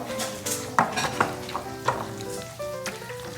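Hot cooked food being mashed by hand with a utensil in a home kitchen, with soft squelching stirs and a few sharp clinks of metal against the pot, close and without talking.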